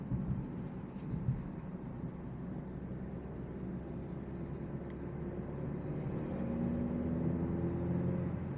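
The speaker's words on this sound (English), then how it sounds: "You hear that turbo spool up?" A turbo spools up in a 2024 Alfa Romeo Stelvio Ti on the move, a faint rising whine climbing over quiet, muffled road and cabin noise.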